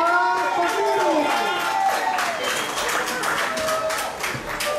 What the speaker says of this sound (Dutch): Een applaus voor Luis Rosa